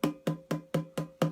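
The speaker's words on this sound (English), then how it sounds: "So you've got that tinnier sound." A hand drum struck on the edge of its head six times in a steady rhythm, each hit thinner and brighter, with a sharp slap near the rim.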